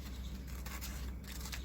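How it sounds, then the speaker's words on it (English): Scissors snip through a paper vocabulary card, a close, quiet series of crisp cutting strokes with no talk. "You cut the card like this."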